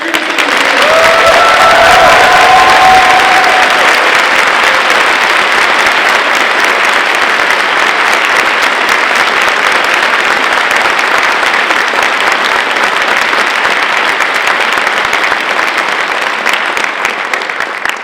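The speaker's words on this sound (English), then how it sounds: "Big round of applause for everyone." Loud, sustained applause from a large crowd at the 2015 Mystery Hunt wrap-up, steady and dense throughout, with a few cheers rising near the start.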